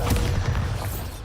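A Bombarda explosion spell cast in Hogwarts Legacy, a short booming blast with a deep thump that fades quickly.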